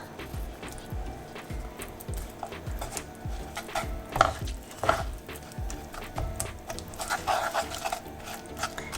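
A spoon stirs peanut butter into a vegan Indian nut bar mixture in a pan, producing soft scraping and clinking with a few sharper knocks against the pan.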